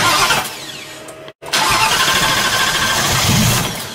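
A car engine cranks hard to start in a loud, fast, raspy churn that breaks off for a moment and then resumes, with no voices over it.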